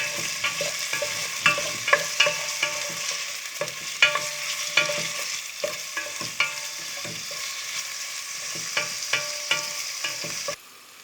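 Ginger, cumin and spices fry in a pan for keema naan, a steady broadband sizzle broken by frequent sharp clicks and scrapes of a spoon stirring, close and alone without talk, ending abruptly.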